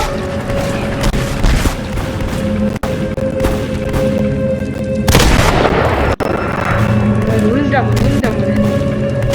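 Gunfire in the Dead Rails video game: sharp booming shots, with one louder broadband blast midway, over a constant game soundscape, with voices talking throughout.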